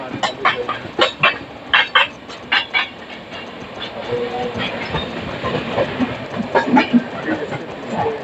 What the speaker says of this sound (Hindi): one of the finest train Pushpak express